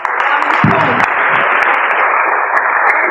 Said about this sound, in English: Clap for her, clap for her.